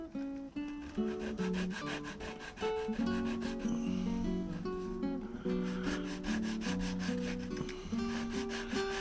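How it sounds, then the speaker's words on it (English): Sandpaper rubs against a small wooden part for an HMS Bounty ship model in repeated rhythmic strokes. Tonal music plays in the background throughout. "So that side that's going down in the slot, we want to sand away."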